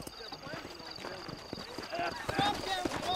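Hooves clip-clop in a quick galloping rhythm from a horse in the Western video game Red Dead Redemption, mixed with game effects and a faint whinny, with voices talking over the hoofbeats.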